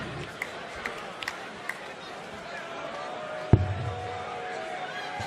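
Packed arena crowd at a darts Masters final goes quiet before a throw, a low steady murmur with scattered faint voices and one sharp thump near the end.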